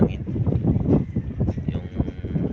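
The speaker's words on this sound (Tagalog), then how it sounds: "Medyo malakas ngayon yung hangin," Strong wind buffets the microphone on a small boat at sea, a gusty rumbling roar with irregular swells that persists throughout.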